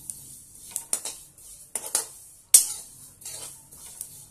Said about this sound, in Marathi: यामध्ये सारखी अशी पळी फिरवावं लागतं, नाहीतर हे जळून जातात